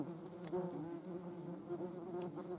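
Wasps and hornets buzzing close by, a continuous droning hum with wavering pitch as the insects move around, with no other sound.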